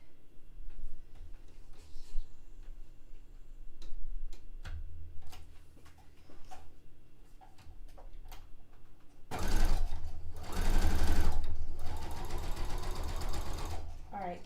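A sewing machine runs a straight stitch through bed sheet fabric, a steady rapid mechanical whir that starts up partway through and stays close and loud, with a person talking quietly around it.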